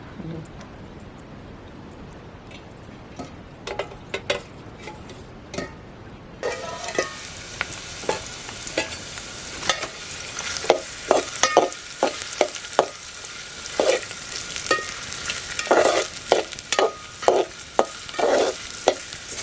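Onion and garlic fry in oil for tempering, a soft sizzle that swells after a few seconds into a louder hiss punctuated by repeated sharp clicks and scrapes of stirring against the pan, close up.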